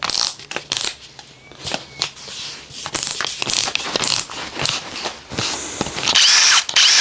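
Bosch GSR 18V-90 FC brushless cordless drill with FlexiClick, running in repeated short bursts of whirring and ratcheting with loud, clicky mechanical noise, close up, with no speech.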